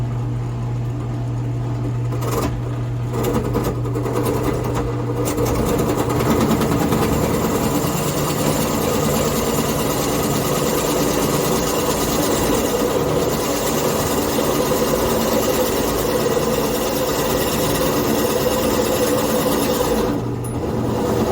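A drill boring a hole in a piece of wood for a hummingbird house in a woodturning shop, a steady loud motor whine held for about twenty seconds with a brief dip near the start.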